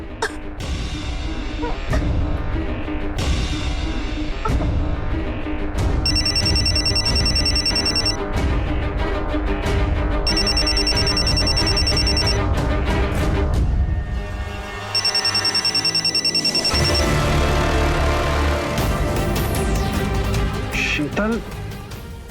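A telephone rings in repeated bursts during a tense crime drama scene, its electronic bell pattern recurring several times over background music and ambience.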